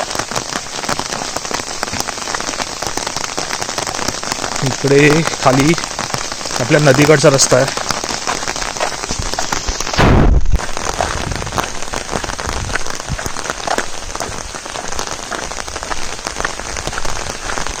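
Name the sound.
rain falling in Konkan village during monsoon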